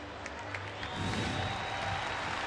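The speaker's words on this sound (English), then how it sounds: "And we hear some cheering out there in the left field grandstands." A baseball stadium crowd out in the left field grandstands cheers and applauds, a distant, hazy roar that swells after the first second and holds steady, with a soft hum running underneath.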